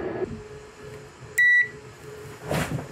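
A multimeter gives one short, loud continuity beep during a pin check on the USB connector of a Behringer UMC202HD audio interface under repair, set against a quiet room hum.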